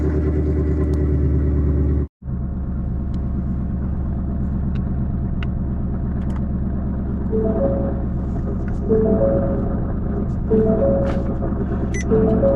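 A cold engine in a vehicle with a Stage 3 RSA 10R80 transmission warms up while cruising, giving a steady, loud, close rumble with a brief dropout near the start and no talking.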